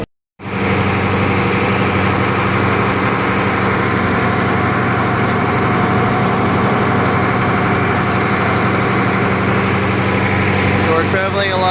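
A massive passenger boat engine roars loudly and without a break while cruising along the Songhua River, a dense, droning rumble that stays steady for the whole stretch, with a voice partly buried beneath it.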